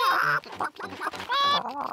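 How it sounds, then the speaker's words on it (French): Cartoon chickens cluck in short, bright, repeated bursts, with a few drawn-out squawks, close and lively. "Peppa, George, voulez-vous donner à manger aux poules?"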